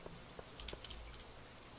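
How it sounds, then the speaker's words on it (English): Soft rain falls in the Stardew Valley farming game, a faint steady patter with a few scattered droplet ticks and a low rumble, continuous and quiet, with no speech. "it's raining"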